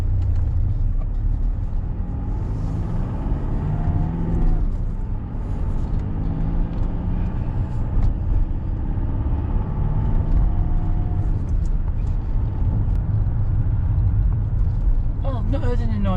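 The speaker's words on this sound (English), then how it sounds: "It's now time for that all important test drive." A 2009 Mercedes-Benz W204 C200 on a road test drive, a steady low engine and road rumble heard from inside the cabin, with tyre noise throughout and a passing whoosh near the end.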